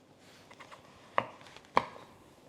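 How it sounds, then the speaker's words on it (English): Knife cutting through butternut squash on a board, two sharp, close chops with faint smaller taps between, no talk. "I'm gonna be cutting my squash like about this size"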